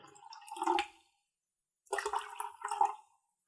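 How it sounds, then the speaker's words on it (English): Water is poured into a bowl for pizza dough, two short gurgling, splashing pours separated by a second of silence, close by and moderately loud. "we are going to do 220 grams of water here"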